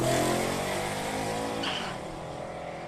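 Drag race cars, a Ford Mustang and an XD Falcon, roar loudly down the strip at Palmyra Raceway, their engine noise fading slightly as they pull away, with a brief tire squeal partway through.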